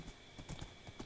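Horse hooves clip-clop in a Minecraft survival game: a steady run of soft, rhythmic hoofbeats at moderate distance, with faint game ambience and no talk.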